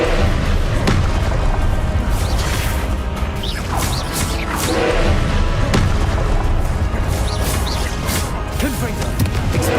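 Confringo blasting spells cast in Hogwarts Legacy combat go off as repeated heavy booms and crashes mixed with thuds and hits, loud and dense throughout, with a voice speaking among them.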